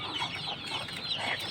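Desi chickens clucking while eating, a close, continuous chorus of overlapping clucks and soft calls from a small flock.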